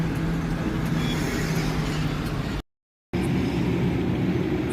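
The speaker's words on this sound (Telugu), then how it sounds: "లారీలు వస్తున్నాయి" Heavy lorries roll past on a highway near Naidupeta, a steady loud broadband roar of traffic with low engine rumble that runs throughout, cut by a brief silent gap.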